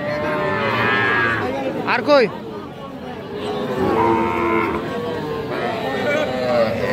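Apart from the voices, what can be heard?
calves mooing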